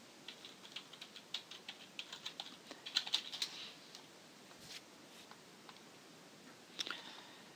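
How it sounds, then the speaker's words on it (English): Typing on a computer keyboard, a quick close run of soft clicking keystrokes that pauses, then resumes briefly, quiet and alone. "I'm going to type in here Jim's Max GXL Team"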